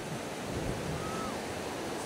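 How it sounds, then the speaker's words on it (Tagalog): Sea waves wash steadily at Bonuan beach in Dagupan as a soft, continuous surf roar mixed with wind noise, fairly faint and even with no distinct breaks. "Ganda ng dagat."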